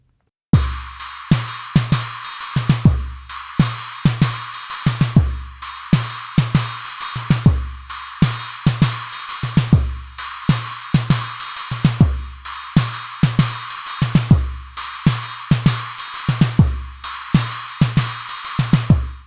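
A Nord Drum 3P electronic drum kit plays a steady groove, punchy kick and snare hits with crisp cymbal strikes repeating in a tight, even rhythm, close and loud with no talking.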